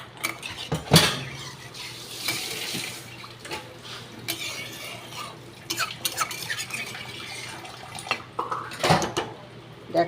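A small splash of water goes into a pot of egg curry on the stove, amid clinking metal, utensil scrapes and stirring, fairly close and intermittent with faint talk.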